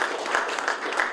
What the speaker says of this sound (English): Can I have a big round of applause for Mr.